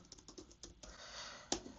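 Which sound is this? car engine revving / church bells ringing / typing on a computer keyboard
typing on a computer keyboard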